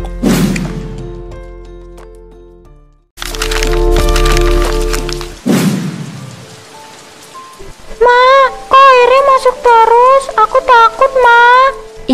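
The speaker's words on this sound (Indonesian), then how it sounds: "Mama, suara petirnya keras banget, Mama takut." Loud thunder cracks and booms during rain on a leaky roof: a sharp clap, then a long heavy rumbling crash, another crack, and afterwards a voice speaks over the quieter rain.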